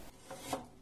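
Ginger sliced with a knife on a board gives a short rasping cut, a couple of quick scraping strokes close up with no talk.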